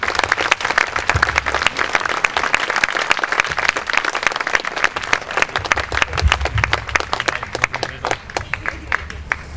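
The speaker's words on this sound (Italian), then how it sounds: "voi accoglieste il professore con un grande caloroso applauso" Warm, sustained applause from an audience welcoming a philosophy professor at an evening talk in Brandico, Italy: dense, even clapping lasting nearly ten seconds, fairly loud and close, with no voices over it.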